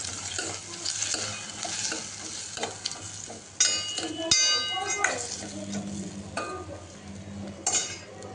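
Spoon stirring chilli powder, turmeric, coriander-cumin powder and salt into potatoes in a hot pan for Gujarati potato sabji, scraping and clinking against the metal over a steady sizzle, with a few louder knocks.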